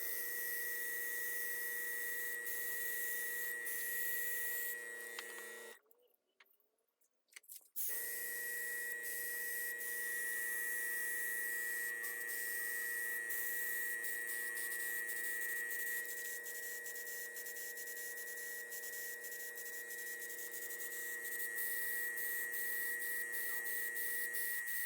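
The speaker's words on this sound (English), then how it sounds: "I am going to airbrush this white in order to obscure the face and the eyes a little more, and also just to take that shine off of it." An airbrush spraying thinned Testors opaque white paint onto a mask, a faint, steady hiss with a thin whine, pausing briefly for a couple of seconds before resuming.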